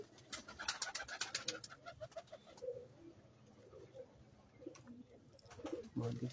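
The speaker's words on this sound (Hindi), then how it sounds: "ये जी उनके लाखे कबूतर शौक करें माशाल्लाह" Lakha pigeons at a loft in Sarai Alamgir give soft, low cooing phrases at intervals, faint and close, mixed with scattered clicks and rustles.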